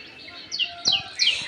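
Several birds sing in village trees on a misty early morning, three clear descending chirped phrases coming in quick succession over quiet surroundings, moderately near, with no talking.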